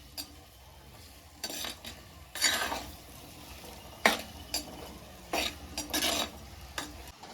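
Tomatoes, onions and spices are stirred together in oil for fish curry, a low sizzle broken by several louder bursts of scraping and clinking from the spoon against the pan, no speech.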